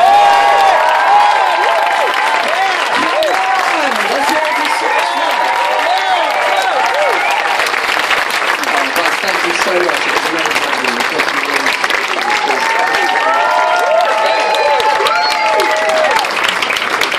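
A festival crowd at the 2015 Big Church Day Out gives a band a long, dense round of applause, with cheers and whoops rising over the sustained clapping.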